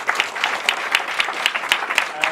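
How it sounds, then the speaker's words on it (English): A meetup audience at an AWS Perth user group gives a speaker a short burst of applause. The clapping from a smallish crowd is fairly close and lasts only a couple of seconds. "Round of applause for Ricardo."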